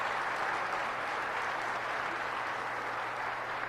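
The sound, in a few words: audience applause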